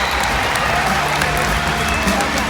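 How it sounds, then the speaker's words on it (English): Audience applause for volunteers at a SeaWorld San Antonio orca show, a steady wash of clapping with some crowd noise, continuous and fairly loud throughout. "Why don't we give our volunteers another big round of applause?"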